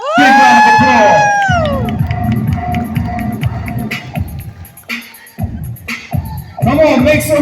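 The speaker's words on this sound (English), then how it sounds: "Big round of applause." A performing arts center audience whoops and cheers after a performance, opening with a loud sung cry before scattered claps, shouts and whistles carry on at varying strength.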